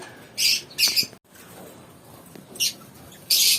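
Pet lovebirds, restless in a cage during hot weather, let out several sharp, bright squawks and chirps in bursts, close by, with quiet rustling between calls.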